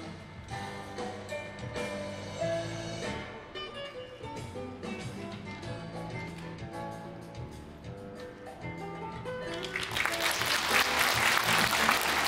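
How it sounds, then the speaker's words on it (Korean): Music plays for most of the stretch at a Buddhist joint service, then a crowd bursts into broad applause near the end that grows and fills the hall. "큰 박수 보내주시기 바랍니다"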